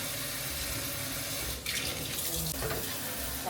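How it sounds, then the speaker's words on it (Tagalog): Water running steadily from a new faucet bought from Wilcon into a larger stainless kitchen sink, a constant splashing hiss with brief shifts in flow. "Ito yung nabili namin sa Wilcon na Faucet."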